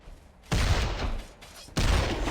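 Two sharp bursts of gunfire in the video game Champions of Newerth, each a loud, broadband blast with a short ringing tail, separated by about a second of quieter game ambience.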